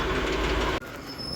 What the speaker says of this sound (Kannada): ಈಗ ಬಂದಾಯ್ತು ನೋಡ್ರಿಪ್ಪ ಧಾರವಾಡ ರೈಲ್ವೆ ಸ್ಟೇಷನಿಗೆ